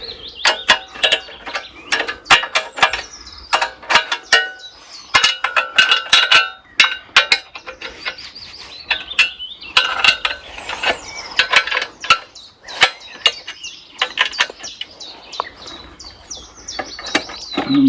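Adjustment screws on a sawmill are loosened with a ratcheting wrench, giving close, rapid metallic clicks in bursts, with brief pauses between turns.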